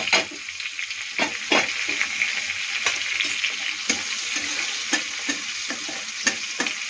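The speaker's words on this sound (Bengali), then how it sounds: "ওর মধ্যে 1 চামচ 5 ফোড়ন ছেড়ে দেব।" Panch phoron five-spice seeds crackle and sizzle in hot oil with green chillies and asafoetida, a steady frying hiss broken by frequent sharp pops and stirring clicks, close and alone with no voices.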